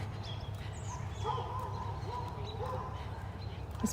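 A dog barks faintly in the distance at a truck pulling in next door, a few scattered yips over low background rumble and outdoor morning ambience in rural Kentucky.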